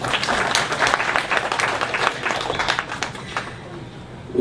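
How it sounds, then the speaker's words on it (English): Applause from the audience at a women's day celebration, as the women present clap for their own achievements; dense crowd clapping with some sharp individual claps, gradually thinning toward the end, without speech. "I want all of you to give yourself a round of applause for your achievements"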